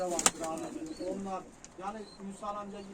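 Tumbler pigeons at a live pigeon auction coo in low repeated bursts close by, with sharp clicks and people talking throughout.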